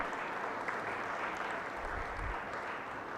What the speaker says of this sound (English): Please give a loud applause to all these people.